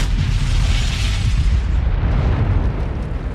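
A bomb blast sets off a loud, sustained rumbling roar, heavy and continuous, with low boom energy filling the whole stretch and no voices.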